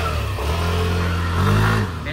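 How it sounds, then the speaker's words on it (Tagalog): A Yamaha Aerox 155 V3 scooter engine fitted with an upgraded Street RS8 CVT revs steadily and loudly up close, its tone rising toward the end before easing off, with some voices faintly underneath. "Testingin lang muna yung motor mga brokies kung kamusta."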